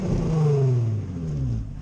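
Nissan Z with a new exhaust revving once while stopped, a short loud rising engine blip that falls away, close by with no talking.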